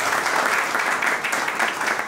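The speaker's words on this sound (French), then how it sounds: "Sous acclamation, s'il vous plaît." A room of guests applauds steadily at a Gabonese civil wedding as a witness is welcomed, a dense, even wash of clapping held at one level throughout.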